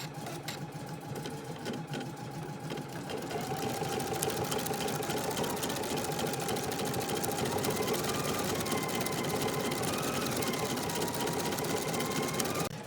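An embroidery machine stitching positioning stitches for a daisy trim bin design hums and rattles in a steady, continuous rhythm up close, picking up slightly in intensity after a few seconds, with no talking.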